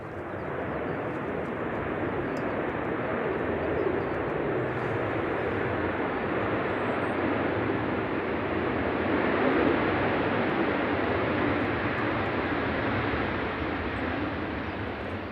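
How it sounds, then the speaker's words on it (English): A Ryanair Boeing 737-800 arriving from Belfast passes at Manchester Airport on a gusty day, giving a dense, sustained jet rumble that builds slightly and then holds, with no speech. "Ryanair from Belfast. 737-800 EIDHH"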